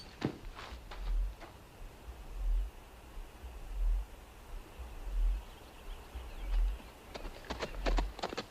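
Horses gallop in a Western film scene, their hoofbeats coming as rhythmic, muffled low thuds with a few sharper clicks, fairly distant and steady throughout.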